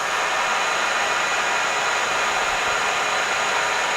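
A Sterling Machinery machine running steadily at 1,500 RPM gives a smooth, even hum with a bright hiss, constant in level and close by, with no voices heard.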